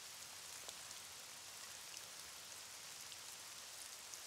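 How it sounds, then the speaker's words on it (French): Cartoon rain falls in a steady, even hiss of countless drops, with occasional faint splatters and no voices. "On peut toujours essayer de l'ignorer, cette pluie."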